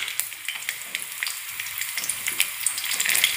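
Garlic-ginger paste and chopped green chillies fry in hot oil with crisp, crackling sizzle and frequent sharp spatters, rising slightly in intensity, alongside occasional stirring sounds.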